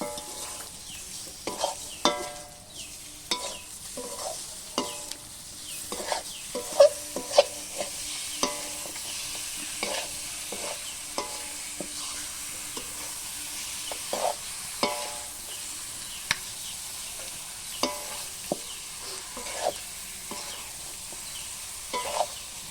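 Meat is stirred into fried spice paste in a pot over a wood fire outdoors, repeated scraping and clattering stirs over a soft sizzle, with faint birds in the background.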